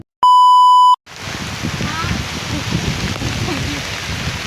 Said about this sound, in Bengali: বৃষ্টি ফোটা ফোটা পড়তেছে